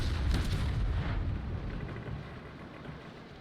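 Mortar brig firing at an enemy ship in the Naval Action sailing game, a deep booming discharge with a low rumbling tail that fades over a few seconds.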